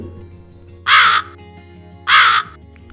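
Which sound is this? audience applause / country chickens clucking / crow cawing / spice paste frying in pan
crow cawing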